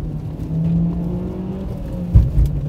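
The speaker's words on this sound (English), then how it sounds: "So we're going to drive this first and see how it feels and then compare it to camber. So let's go a little autocross run first." A Mitsubishi Evo runs an autocross course with its engine humming and droning steadily up close, then a quick rise in revs near the end.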